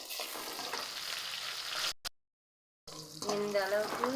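Curry leaves and fennel seeds fry in hot oil for a meal maker gravy, giving a steady crackling sizzle that cuts out briefly, then returns with louder spattering and a voice speaking over it.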